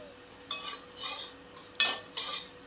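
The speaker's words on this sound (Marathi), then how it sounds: "रवा परत भाजून घेते आहे" Semolina is roasted in melted ghee in a pan for besan rava laddoos. Four scraping strokes of a metal spoon against the pan come at an even pace, with a soft sizzle underneath and no talk.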